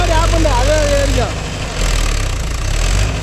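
A Mahindra Yuvo Tech Plus 585 4WD shuttle-gear tractor, nearly new with about 10 engine hours, rumbles steadily and loudly up close while hitched to a 5-point cultivator; someone talks over the first second before the engine carries on alone.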